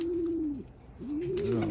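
Young racing pigeons coo softly and close by, with a low rolling coo that drops away and then rises again, alone in a quiet setting.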